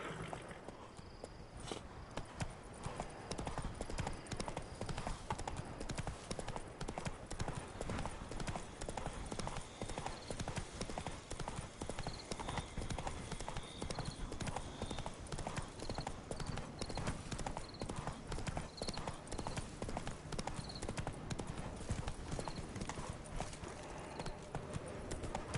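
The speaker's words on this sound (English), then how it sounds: "Fine, Roach, we're running the rest of the way." Horse galloping in The Witcher 3: Wild Hunt, with fast, steady hoofbeats pounding continuously for the whole stretch and a faint chime-like game sound in the background.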